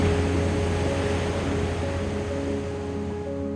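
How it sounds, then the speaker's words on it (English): Ocean surf heard from far off, a steady low wash of waves rolling without pause, with no voices over it. "That's a really engaging sound because it's the sound of the ocean, but from quite a distant perspective."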